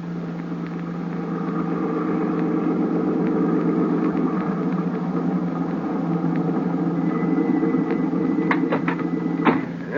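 A car engine idles in a steady low rumble for a radio drama, holding an even hum throughout with a few brief clicks and handling noises near the end.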